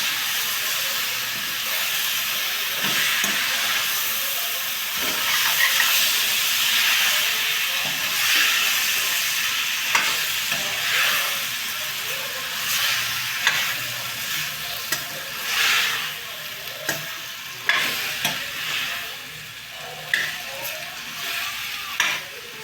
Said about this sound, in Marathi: आणि आता मिक्स करून घेऊ आपण हे